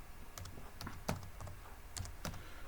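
Fast, light typing on a computer keyboard, a quick irregular run of crisp key clicks close by and fairly soft, with no voices.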